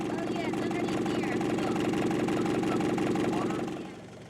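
A boat's engine idles after restarting following a coolant leak near a drain bolt, a loud, steady, rumbling mid-pitched drone that runs continuously, then drops away sharply near the end.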